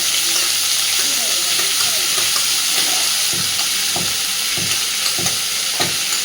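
Chopped banana stem (thor) sizzles in hot oil in a pan, a steady hiss with scraping stirring strokes recurring through it, close and continuous with no speech.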